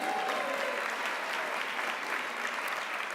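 A room full of women at a celebration breakfast clapping loudly and continuously, a dense even roar of applause throughout, with a faint voice briefly audible at the start.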